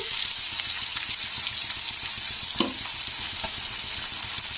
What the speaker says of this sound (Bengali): এবারে দিয়ে দেবো আমি পেঁয়াজ